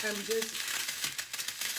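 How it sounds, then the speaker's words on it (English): Oil pops and sizzles in a pan as a seafood boil base fries, a continuous crackling hiss with scattered sharp pops, close and fairly loud. "I'm sorry for the popping noise, but what I'm doing now is just making my base"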